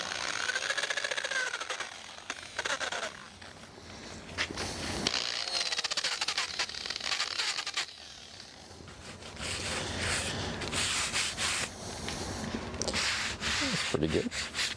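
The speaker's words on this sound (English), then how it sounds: "Let me flip it over and hit the front side again with this sander." An electric sander works over a wooden kayak paddle, a continuous rough whirring grind that surges and dips as the tool moves across the wood, close and loud throughout with no talking.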